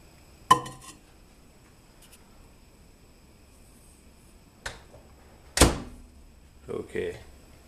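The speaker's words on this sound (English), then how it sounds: "Let's put this in the microwave." Microwave oven in a kitchen with a can of Diet Pepsi: a sharp door clunk, a few scattered clicks and a closing thud, with quiet pauses between and no talk.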